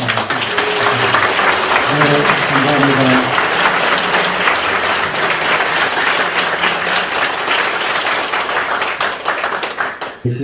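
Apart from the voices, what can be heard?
audience applause at church anniversary Mass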